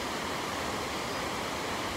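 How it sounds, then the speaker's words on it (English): A waterfall on the River Tees at low water sends out a steady, full rushing roar that holds level throughout, near and uninterrupted, with no voices. "this is a very low amount of water coming down the Tees at the moment"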